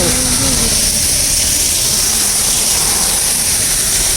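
Heavy rain pours down on a Kolkata road, a loud, dense, continuous wash of noise throughout, with a brief voice near the start.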